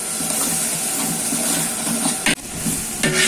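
Ginger garlic paste sizzles loudly in hot oil as it is sautéed for chicken biryani, a constant close hiss that briefly breaks and surges, with no speech.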